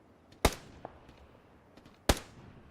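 Two sharp gunshots, well spaced, with a faint pop between them, loud and close against a quiet background.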